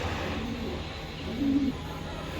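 Pigeons kept for sale at a pigeon club coo softly, with one short low coo standing out over a faint background hum.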